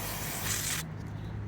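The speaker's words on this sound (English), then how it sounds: "then you just need to spray in this area as you can see" A can of cleaner sprayed onto the air flow sensor of a 2012 Toyota Prius Plus Alpha V, a close, loud continuous hiss lasting under a second before cutting off to quiet.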